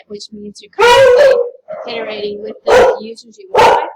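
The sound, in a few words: dog barking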